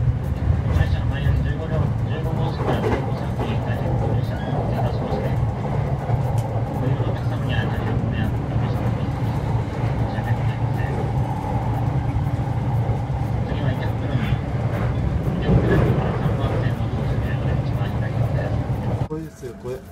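A crowded train bound for Takasaki rumbles and hums as it pulls out, a steady low mechanical drone with intermittent rattles, while people talk over it throughout.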